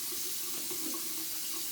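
Tap water runs steadily into a sink during hand washing at a microbiology lab sink, a continuous close hiss and splash with no voices.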